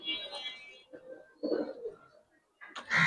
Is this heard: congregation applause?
no